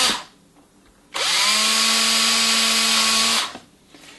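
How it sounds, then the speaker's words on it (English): A power drill bores holes through a metal strip used as a template while building a replacement low-voltage transformer for a NuTone Model 2540, one steady close whine lasting about two seconds between quiet pauses. "then we'll drill them through."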